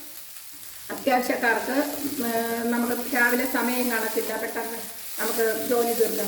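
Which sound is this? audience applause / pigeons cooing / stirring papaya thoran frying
stirring papaya thoran frying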